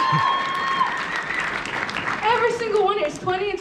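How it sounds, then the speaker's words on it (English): Applause from an event audience cheering a young group of performers on stage, sustained clapping with whoops and voices talking over it. "Can you guys give an applause for that?"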